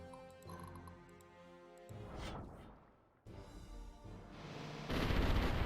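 Cannons fire in the Symphony of War video game as a volley of booming blasts and crackling impacts, loud and dense, swelling toward the end.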